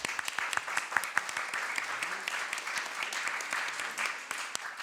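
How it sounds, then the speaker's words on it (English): A conference audience applauds a panel, a dense, steady clapping that fills the room for several seconds with no talking over it. "please join me in giving a round of applause to this fantastic panel"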